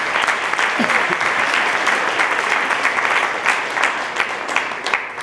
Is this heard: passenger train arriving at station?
no